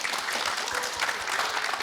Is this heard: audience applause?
yes